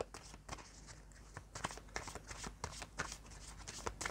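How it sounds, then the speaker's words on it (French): Tarot cards are shuffled for a nine-card spread, a quiet run of quick papery riffles and flicks close by, repeated in short bursts with no talk. "Je vais faire un tirage à 9 cartes."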